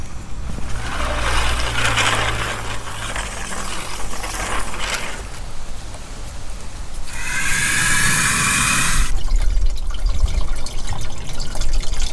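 Water runs from a hose into a caravan's fresh water tank, a continuous gushing, filling rush that turns into a brighter hiss of overflow partway through, close and fairly loud with no talk.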